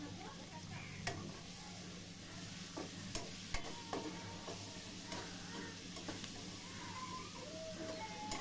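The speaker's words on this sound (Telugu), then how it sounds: "ఇప్పుడు కొంచెం ఉల్లిపాయ మనకి మగ్గడానికి 1 స్పూను ఉప్పు వేసుకొని, 1 స్పూన్ సాల్ట్ వేసుకొని బాగా కలుపుకోవాలి" Onions with a spoonful of salt are stirred through oil in a pan for a fish curry, a steady low sizzle running underneath while a spoon scrapes and clicks against the metal in scattered taps.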